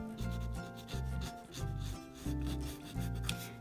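Light scratching strokes worked into a landscape painting along the shoreline, a series of short rhythmic rubbing scrapes close by, with no voices.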